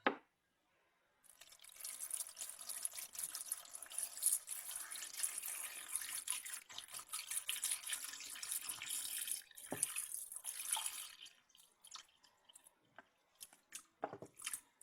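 Water pours steadily into a pot for several seconds, a bright continuous splashing stream with a few drips and clinks near the end, no voices.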